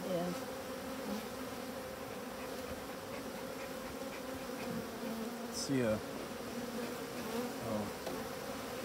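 Honeybees hum in a dense continuous drone around an opened hive, with individual bees buzzing close past, and a single brief spoken word.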